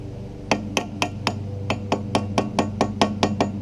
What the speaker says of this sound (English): I'm going to use a flathead screwdriver and a hammer